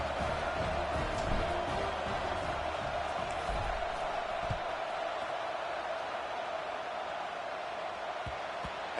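Steady wash of stadium crowd noise in the College Football 26 video game during a Clemson versus Miami matchup, a broad continuous roar with faint scattered shouts, no distinct cheering burst.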